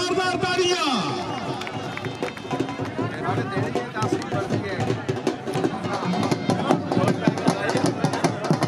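Loud applause from a big crowd at an outdoor stone lifting competition in Saila, Jhelum: dense, steady clapping and cheering with crowd noise that lasts the whole stretch.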